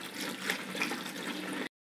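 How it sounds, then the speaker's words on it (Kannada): Water pours steadily into a pot of country chicken curry, a close, even gushing that runs for under two seconds and stops abruptly. "ನೀರು ಹಾಕ್ತಾ ಇದ್ದೀನಿ."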